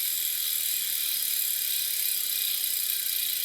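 Bicycle wheel freewheel hub ratchet clicks rapidly and steadily up close, a bright, continuous metallic buzz of pawls.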